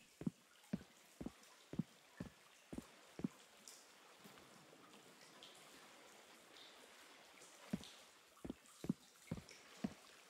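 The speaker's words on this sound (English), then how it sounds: "Water sounds very loud." Water drips steadily in a video-game cave, a series of sharp, evenly spaced plops echoing over a quiet ambient hiss, with a short lull midway before the drips resume.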